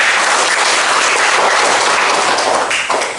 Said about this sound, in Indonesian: Kita aplaus buat kelompok 5